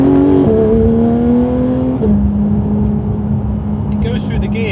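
Porsche GT3 with PDK gearbox in Sport mode pulling hard through the gears, engine note climbing then dropping sharply at each quick upshift, loud and close from inside the cabin.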